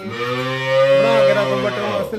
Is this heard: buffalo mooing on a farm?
yes